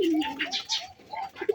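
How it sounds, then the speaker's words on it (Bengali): Pigeons cooing in a crowded loft where many birds are kept together in a small space, a run of soft, rolling coos overlapping one another at close range with no talk. "আমি কিন্তু অনেক দিন ধরেই অল্প জায়গার মধ্যে এতগুলো কবুতর কিন্তু এক জায়গায় আসলে রেখে দিই"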